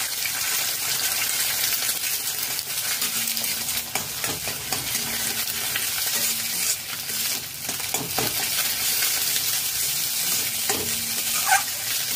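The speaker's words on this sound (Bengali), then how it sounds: "একটি ডিম ভেজে নেব" Egg frying in a tablespoon of mustard oil in a wok, a steady broadband sizzle and crackle running the whole time with a few faint scrapes and clinks mixed in.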